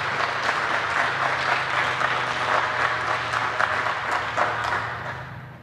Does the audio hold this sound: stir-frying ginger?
no